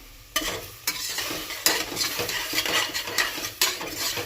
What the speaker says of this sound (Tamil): அப்படியே நல்லா வணக்கி விடலாங்க தக்காளி நல்லா வணங்கணும்